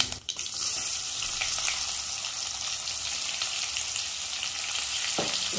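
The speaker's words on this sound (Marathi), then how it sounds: "हा कांदा छान परतून घ्यायचा आपल्याला" Sliced onions fry in hot oil with asafoetida for green pea rice, a steady, loud sizzle that continues without a break, and there is no talking.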